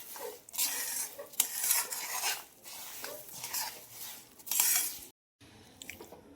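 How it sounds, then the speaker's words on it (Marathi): Roasted peanuts are stirred into a hot sesame ladoo mixture in a pan, a spoon scraping and clattering in uneven strokes with a soft sizzle, close and fairly quiet, pausing briefly near the end. "इथे मी शेंगदाणे भाजून घेतले होते, ते पण घालून घेऊया. आणि छान आता याला मिक्स करून घेऊया."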